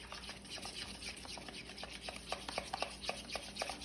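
Mustard sauce ingredients being mixed together in a bowl, heard as a steady series of soft, close scraping and tapping strokes with a faint wet rub, no voices over them.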